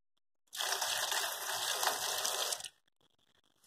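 Water gushes and splashes steadily into a gutter for about two seconds, loud and close, then cuts off abruptly, leaving faint trickling.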